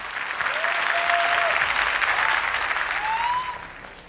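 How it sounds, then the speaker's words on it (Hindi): An audience applauds at a Modicare gathering in India, with steady, fairly loud clapping and occasional whistles that holds for a few seconds before tapering off. "तो एक बारी मोदी केयर के लिए तालियां बजा लेते हैं।"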